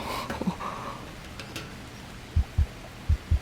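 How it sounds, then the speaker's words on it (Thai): The heartbeat sound effect in the survival video game Green Hell thumps in two quick double beats, low and distinct, after a stretch of quiet in-game ambience. "โอ้โหหัวใจเต้นละ"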